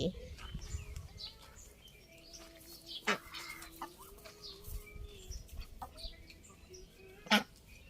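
Chickens cluck and squawk nearby in short bursts, with a couple of louder calls standing out over faint background voices.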